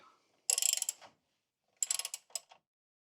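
Ratchet wrench tightening 15 mm frame bolts at the back of a UTV snowplow frame: two close, loud bursts of rapid clicking separated by a pause, the second burst ending in a few short separate clicks.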